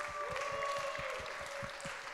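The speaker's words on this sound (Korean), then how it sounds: "환영의 박수 한 번만 부탁드려요" Applause from the congregation at a church young-adults Sunday service, welcoming newcomers: a steady, moderately loud patter of many hands clapping throughout, with a sustained tone running beneath it.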